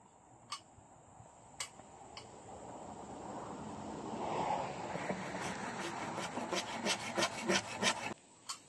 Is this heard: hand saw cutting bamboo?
yes